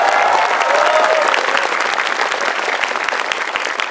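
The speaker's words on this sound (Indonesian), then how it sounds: "Tepuk tangan buat petani di Indonesia." A large stand-up comedy audience in Indonesia applauds loudly and continuously, dense clapping filling the whole moment.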